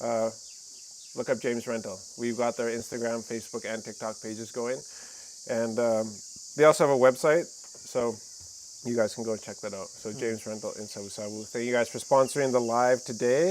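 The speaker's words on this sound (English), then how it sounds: "the cicadas, or the kakalus, are in season right now." A steady high-pitched drone of in-season cicadas in Fiji runs loud and constant behind someone talking throughout.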